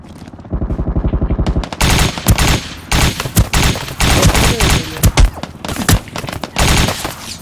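Rapid automatic gunfire in a PUBG or CS:GO match, loud bursts of repeated shots with brief pauses between volleys, heard close up without talk.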